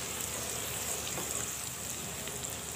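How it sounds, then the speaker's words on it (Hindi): Chopped ginger and garlic frying with cumin seeds in hot oil in a pan, giving a steady, close, unbroken sizzle with no talking over it. "अब हम इसमें अपना अदरक लहसुन डाल देंगे, और अदरक लहसुन डाल के इसको हल्का सा भूनेंगे"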